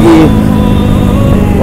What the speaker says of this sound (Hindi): क्या आवाज है भाई साहब गाड़ी की।